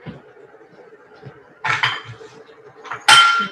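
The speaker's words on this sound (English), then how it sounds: "I'm just going to mix it all up, and I'm going to let the mixture cook for a couple of minutes" A utensil scrapes and clinks against a pan while a shakshuka mixture is stirred, making a few sharp metallic knocks among softer scraping, close by and with no talking.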